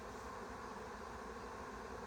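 A swarm of honeybees resting on a tree gives off a faint, steady, continuous hum with no voices.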